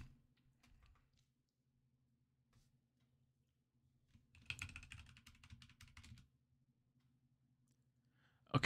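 Short bursts of typing on a computer keyboard while entering a Linux install command and a password: a few scattered keystrokes, then a dense run of quick clicks lasting about two seconds, close and moderately quiet over a steady low hum.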